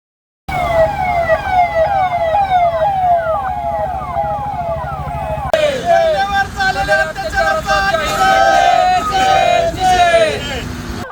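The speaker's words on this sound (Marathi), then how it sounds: "मोठ्या आवाजात सायरन वाजवत एखादी अँब्युलन्स गेली" Loud wailing ambulance sirens sweep up and down continuously, close by on a street in Baramati, with a second, shriller siren pattern joining partway through over traffic noise.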